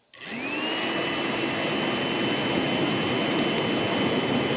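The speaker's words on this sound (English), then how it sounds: "I'm going to go ahead and leave the blower on" Mattress pump used as a blower, forcing air into a dirt box forge: switches on abruptly, then a loud steady whirring rush of air with a faint rising whine, continuing without pause.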